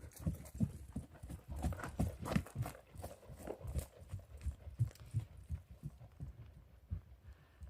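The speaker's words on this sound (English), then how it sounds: "Here's Karen Donnelly and Andy Botello riding Karen's horses." Horses under riders clip-clop along at an easy walking pace on an endurance ride, hoofbeats close and steady through the whole stretch with faint background noise and no talk.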